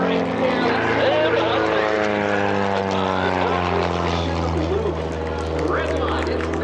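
A Redline Airshows propeller plane performs a maneuver at EAA AirVenture with a loud, sustained engine drone whose pitch slowly shifts. An announcer talks over it throughout.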